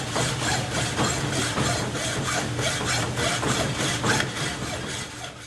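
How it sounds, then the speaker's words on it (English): A 2.5-inch bolt being sawn to cut off three-quarters of an inch: a rhythmic series of roughly a dozen rasping back-and-forth strokes, close and fairly loud, at an even pace. "we're going to cut off 3/4 inch from that bolt"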